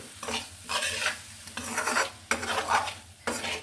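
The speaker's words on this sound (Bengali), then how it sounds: "দুটো টমেটো কেটে এটা আমি ভালো করে কষিয়ে নেব" Chopped tomatoes with turmeric, cumin, coriander powder and salt being stirred and sautéed in a pan: rhythmic stirring strokes over a sizzling fry, several distinct passes close up, no talking.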